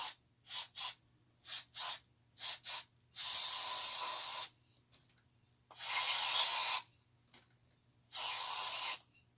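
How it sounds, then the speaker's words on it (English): Brake parts cleaner sprays onto parts of a Stihl MS261 chainsaw during a rebuild: several short aerosol hisses, then three longer sustained blasts separated by quiet gaps, all close up. "Clean this up with some brake parts cleaner first."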